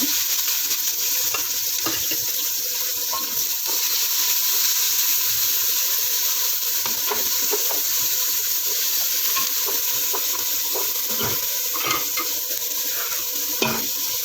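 Garlic and onion fry in olive oil in a pan, a steady bright sizzle and hiss punctuated by scraping clicks as the pieces are stirred.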